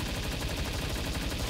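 Rapid automatic gunfire in the Palworld video game rattles on without pause in a dense, fast stream of shots at fairly low level, with no talk over it.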